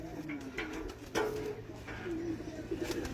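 Racing pigeons coo faintly in a loft, a few soft low repeated calls under quiet background noise.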